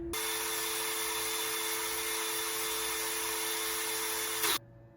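A power drill whines loudly and steadily for several seconds, then cuts off abruptly, leaving near silence.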